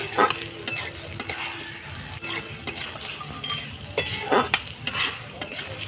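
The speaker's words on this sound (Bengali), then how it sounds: "ভালো করে মশলাটা আলুর সাথে কষিয়ে নেব।" Ginger, cumin and chilli paste stir-fried with fried potatoes in a pan for paneer jhol, a steady sizzle under repeated clinks and scrapes of a spoon, close up with no talk.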